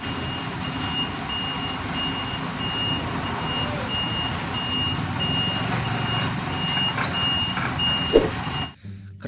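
Reversing beeps from a toy Pertamina truck repeat in a steady, evenly spaced pattern over a constant background hum, then cut off abruptly near the end.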